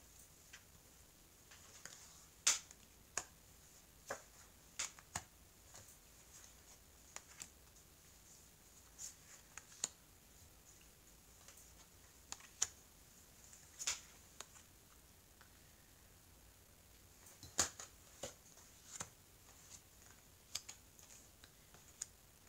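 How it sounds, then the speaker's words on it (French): Oracle cards are shuffled and spread out on a table, soft scattered clicks and light card snaps at an irregular pace, quiet and close with no talking. "je vais mélanger donc les cartes de l'oracle des miroirs"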